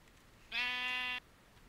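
A single sheep bleat from the Minecraft video game, a short clear tonal call lasting under a second, heard alone against a quiet background.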